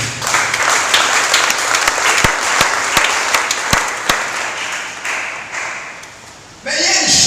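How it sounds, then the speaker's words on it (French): A church congregation at a French-language deliverance service applauds in praise of Jesus. The clapping is loud and sustained, with sharp individual claps standing out, and it gives way to a different sound near the end. "Est-ce qu'on peut acclamer pour la gloire de Jésus?"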